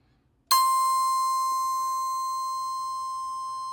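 Padshop Pro granular synth psaltery patch with four grain streams: one sustained, bright tone with rich overtones begins sharply after a brief silence and slowly decays, static and unchanging, no voices.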